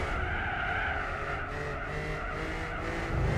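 A race car brakes hard on the Tokyo 246 track in Gran Turismo 4, tires squealing and skidding loudly over a continuous engine roar.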